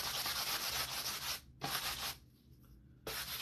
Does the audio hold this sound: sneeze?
no